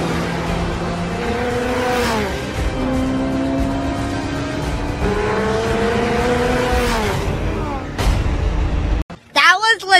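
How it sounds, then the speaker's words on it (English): Nissan Patrol accelerating hard in a street race against supercars, a loud, sustained engine roar with rising and falling revs and gear changes up close, broken near the end by a brief gap and a voice. "He's pulling away in a Nissan Patrol!"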